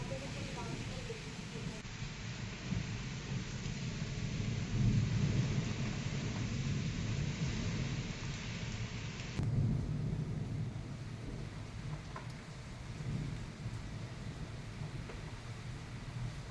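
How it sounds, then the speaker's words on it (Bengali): Storm with wind and rain seen from a rooftop veranda in the morning, a steady broadband roar with rumbling low swells and gusty wind buffeting throughout, continuous and moderately loud. "কিরকম ঝড় হচ্ছে।"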